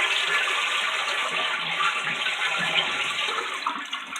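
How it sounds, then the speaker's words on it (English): A toilet is flushed to drain the tank while a defective fill valve is being replaced, with the supply shut off, producing a close, continuous rush of draining water that runs throughout. "We'll empty the toilet."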